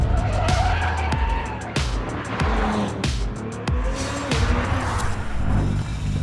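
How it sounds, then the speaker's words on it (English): A late-stage development prototype Lamborghini Temerario supercar, a 907bhp car that revs to 10,000rpm, driven hard around the Autodromo in Modena. The engine is loud and close, rising and falling repeatedly through the gears, with tire noise underneath. "This is the all-new Lamborghini Temerario, and I'm here at the Autodromo in Modena"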